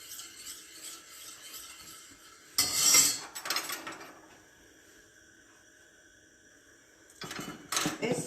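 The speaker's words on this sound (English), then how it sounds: "Make sure you keep on stirring, otherwise the ghee will stick on the sides." A spoon scrapes and rubs around a pan of melting ghee in a few short, raspy bursts separated by quieter moments with a faint background hum.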